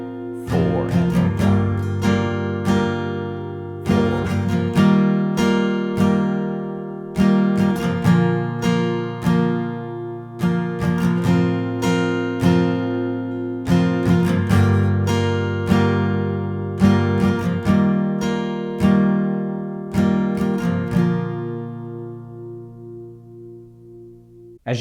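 An acoustic guitar strums chords of a song in a steady repeating pattern, loud and close, each bar opening with a sharp downstroke and ringing out at the end.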